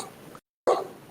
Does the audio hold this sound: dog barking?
yes